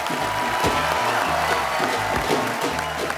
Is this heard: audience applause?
yes